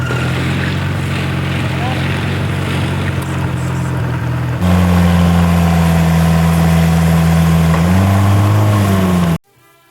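A boat engine in northern Thailand's hill country idles steadily and loudly as the boat lands at a village, its low hum shifting pitch partway through before cutting off abruptly at the end.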